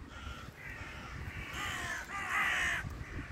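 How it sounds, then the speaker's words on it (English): Crows cawing in a city park, several harsh calls overlapping and rising to a loud burst near the end over steady outdoor ambience, with no talking. "look at those blackbirds flying"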